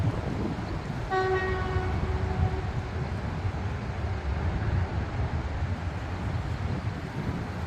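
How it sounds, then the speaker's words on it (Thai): A GE diesel locomotive hauling a train gives a sustained low engine rumble and rolling noise, with a short horn blast near the start. "อันนี้เป็นหัวรถจักรที่ลากขบวนมานะครับ เป็น GEA นะฮะมองไม่เห็นเลขหรอก ตอนนี้กำลังลากลง"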